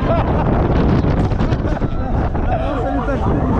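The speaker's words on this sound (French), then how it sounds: "Le vent, il est glacial par contre." Strong cold wind buffets the microphone at the Dunkirk fair in a constant low roar, with indistinct voices faintly beneath it.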